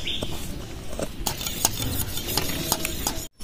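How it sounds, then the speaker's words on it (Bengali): Poppy seeds being ground into a paste on a stone, likely for a Bengali hilsa fish curry, with repeated close scraping and grinding strokes and soft knocks. "এই পোস্তটা বেটে নিচ্ছি।"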